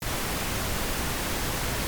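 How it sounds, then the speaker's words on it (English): Steady pink noise test signal playing in Pro Tools, a constant broadband hiss held at even loudness throughout with no talk. "I'm going to make sure that I enable the pink noise."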